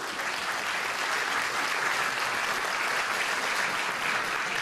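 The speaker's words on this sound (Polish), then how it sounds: "bo chcą brawa bić" A concert audience claps in sustained, dense applause, loud and even from start to finish with no voices standing out.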